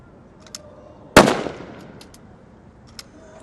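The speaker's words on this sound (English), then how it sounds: "The snipers engaging the first of their targets" A single sharp sniper rifle shot cracks out at a SWAT challenge range, loud and sudden with a short decaying tail, while faint distant pops sound before and after.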